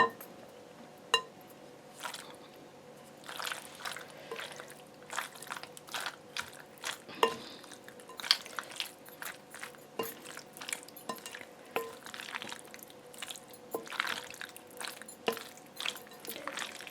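Pasta with pesto sauce and vegetables is stirred and tossed in a pan, producing quiet, irregular squelching and clinking strokes that repeat close by with no talk.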